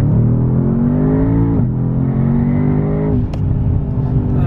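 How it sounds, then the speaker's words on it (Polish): Brabus S800 accelerating hard, a loud, close engine whose pitch climbs steadily, with two quick gear changes that drop the tone before it climbs again, alone without talk. "Skromne przyspieszonko."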